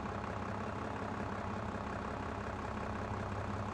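A worn, low-fuel tractor idling in the Farming Simulator game, a steady low engine rumble that holds constant throughout, close and alone.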